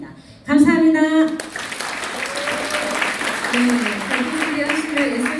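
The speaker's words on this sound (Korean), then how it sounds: "여러 상인의 여러분들께 감사와 서로에 위한 격려의 박수를 보냅니다" Applause for the merchants at a Seongnam traditional market and local shopping district results-sharing meeting. After a brief quiet opening, a burst of clapping starts and continues steadily to the end, with a speaking voice running over it.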